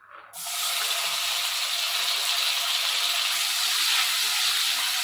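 A sudden loud sizzle erupts as chopped tomato hits hot oil, then settles into a steady, bright hiss that continues to the end.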